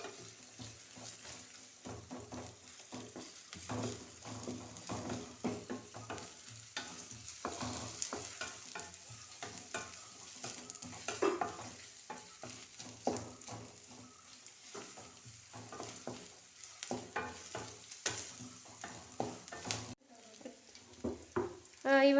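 Mustard seeds frying in a pan give a steady close sizzle with scattered pops and stirring scrapes throughout, growing louder near the end, with no voice over it.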